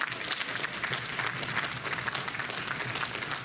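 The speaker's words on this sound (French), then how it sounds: "vous pouvez l'applaudir, allez" An audience at the BronyDays 2015 convention applauds a cosplayer, with dense steady clapping from a moderate-sized crowd for a few seconds and no voices on top.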